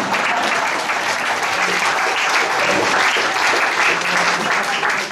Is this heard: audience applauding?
yes